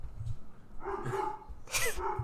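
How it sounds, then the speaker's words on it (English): A dog barks a few times close by, short sharp yips with a brief whimpering quality, standing alone without talk over it. "And the dog's gonna bark."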